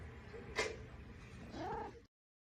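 A cat meows faintly, first a brief cry and then a longer drawn-out call, over a steady hiss of room noise.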